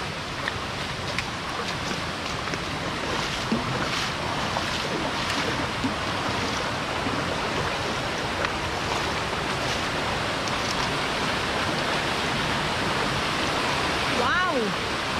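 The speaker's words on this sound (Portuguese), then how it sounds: "Lá na frente está a cachoeira da mina abandonada." Steady, dense rushing water roars throughout like a nearby waterfall at an abandoned mine on a trail, broadband and constant, with a brief whistle-like tone near the end.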